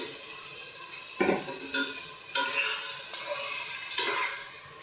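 Papaya pieces dropped into spices frying in a pan, giving loud sizzling bursts followed by stirring scrapes and a steady crackling fry, heard up close.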